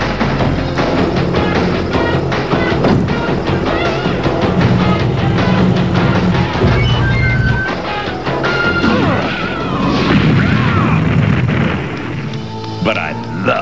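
A cartoon missile battle with loud crashing, smashing and booming explosions piling up densely under a music score, with voices shouting over the din.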